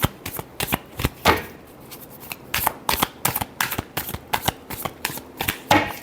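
A deck of tarot cards is shuffled by hand in a run of quick, crisp riffling bursts and flicks, close up and clear, with no talking.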